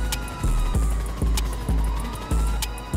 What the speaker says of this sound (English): I already hear the police sirens